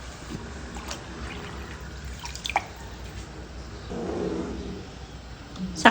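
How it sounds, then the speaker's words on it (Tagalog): Water poured into a cooking pot of glutinous rice: a low, steady pouring wash with scattered drips and small splashes, close and moderate in level, no voices. "Lagyan natin siya ng tubig."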